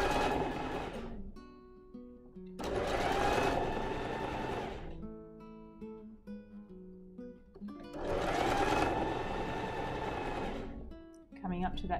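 A sewing machine stitches stretched fabric for a costume base dress, running in two sustained bursts with pauses between them while a person talks in the gaps.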